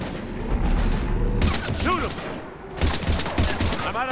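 Gunfire in a Mass Effect 3 Legendary Edition firefight against husks, with bursts of loud rapid shots from weapons in two clusters. Voices speak in between the bursts.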